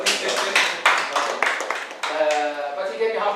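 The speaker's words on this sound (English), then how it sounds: "Let's give him a applause." An audience at a socioeconomic development workshop claps for a speaker, a steady patter of hand claps with several sharp bursts, fairly close and filling the whole moment.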